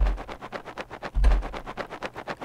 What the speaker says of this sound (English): Boxes shaking.